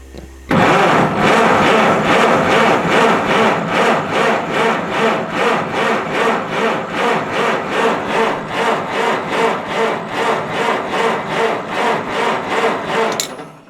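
An old Farmall tractor with a loader, left sitting for years, cranks over in a long run of steady rhythmic starter pulses and then fires up, loud and close with no talk.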